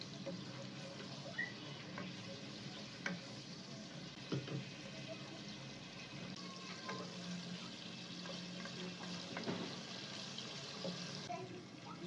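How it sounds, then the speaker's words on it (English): Onion being stirred and fried for Cameroonian okra soup, a faint, low sizzle with occasional soft scrapes and clicks of stirring throughout, quiet and somewhat distant. "So you're going to go in now with your onion. Stir it."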